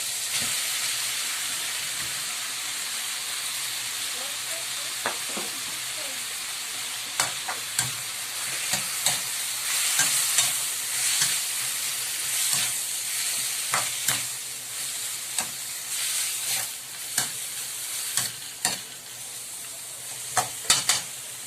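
Pork liver, pork and hotdog frying in oil with a steady hiss and sizzle, broken by irregular scraping clacks of a utensil stirring the pan, growing busier toward the end.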